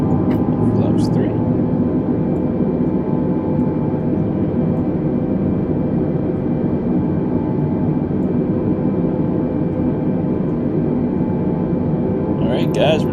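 Airbus A320neo engines in a flight simulator game, descending from 14,000 to 5,000 feet with flaps set, give a steady, loud broadband roar that holds evenly throughout, with a brief faint click near the end.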